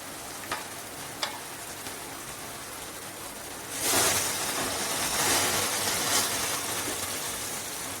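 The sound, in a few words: ground masala frying with sautéed onion and tomato, stirred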